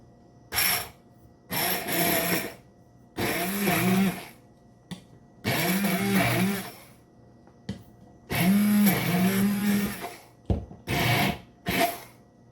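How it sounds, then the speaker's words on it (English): A hand blender mixing ingredients in a container for a cooking recipe runs in repeated loud bursts of whirring motor noise, about seven pulses separated by short pauses, close and with no talk. "And now I'm using my hand blender to mix all the ingredients together."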